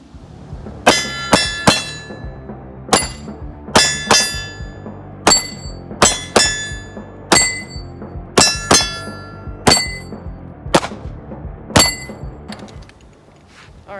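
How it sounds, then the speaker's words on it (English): A ZEV OZ9 pistol fitted with a red dot fires a rapid string of about a dozen sharp shots, each followed by a bright metallic clang of steel targets, in uneven bursts with short pauses between. "I'm gonna practice shooting and transitioning a little bit."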